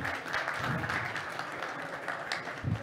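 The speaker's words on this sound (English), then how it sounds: "Round of applause." An audience applauds after a talk on communicating with media, a soft, even spread of clapping that fills the whole stretch with no voices over it.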